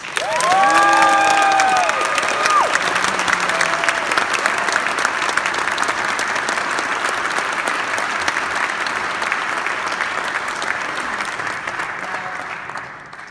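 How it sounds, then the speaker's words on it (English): Sustained audience applause fills a hall at a Stanford Athletics Hall of Fame induction ceremony, loud at first and holding steady as a broad wash of clapping, with a brief amplified voice and a few cheers near the start. "Can you all put your hands together and help me congratulate Candice Wiggins?"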